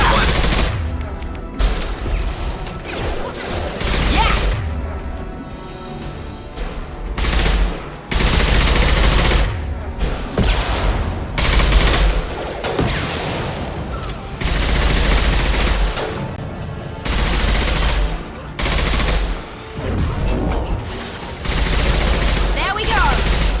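Rapid bursts of gunfire and sniper shots in Mass Effect 2 Legendary Edition, with dense automatic fire and sharp single cracks repeating across the whole stretch, loud and close, while a player shouts over the shooting.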